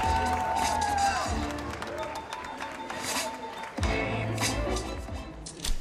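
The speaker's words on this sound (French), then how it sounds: "Allez, on peut encore les applaudir, mesdames, messieurs." A crowd at a French BMX championship applauds riders, with steady clapping and cheering running throughout, mixed with a loud announcer's voice over the arena sound.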